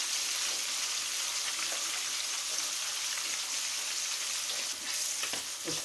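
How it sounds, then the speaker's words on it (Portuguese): Horse mackerel frying in oil in a second batch, a steady broadband sizzle with light crackling throughout, close and continuous with no talking. "Os primeiros já estão fritos, agora estou na segunda parte, fritar o resto."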